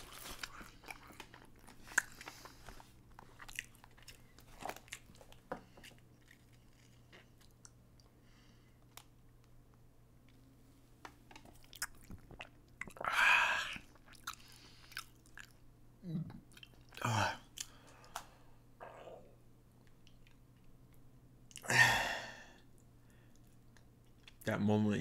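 Quiet close-up chewing and biting of Steak n Shake fries, soft intermittent crunches and mouth clicks scattered over a low steady hum, with a few louder bites standing out.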